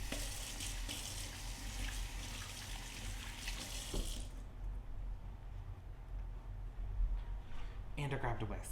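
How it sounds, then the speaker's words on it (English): Running tap water over hands being washed at a kitchen sink, a steady close hiss that stops midway and then briefly returns with splashing near the end. "I'll wash my hands real quick."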